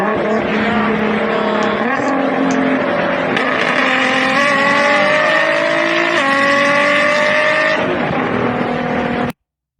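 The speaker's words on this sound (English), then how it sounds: "Just the exhaust sound." Nissan GT-R with a 3800 cc six-cylinder engine accelerating hard, its exhaust note climbing steadily in pitch through successive gear changes, loud and close, cutting off abruptly at the end.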